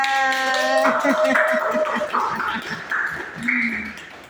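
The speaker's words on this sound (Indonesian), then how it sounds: "Ayo tepuk tangan untuk Teh Aida." Rhythmic clapping from a group applauding a presenter in a classroom, quick regular claps close by, with a voice speaking over them.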